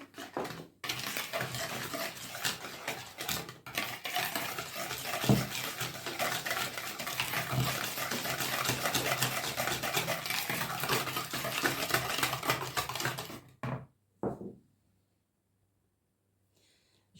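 Dry sugar and cinnamon stirred in a bowl for an apple cinnamon tart, a steady scraping and clinking of utensil against the bowl lasting about thirteen seconds, close and fairly loud, then stopping abruptly.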